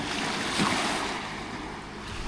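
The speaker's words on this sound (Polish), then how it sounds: "ale fale tu jak nad morzem." Waves on a lake wash in like sea surf, a steady close rush of water blended with wind noise on the microphone, one slightly louder swell partway through, no voices.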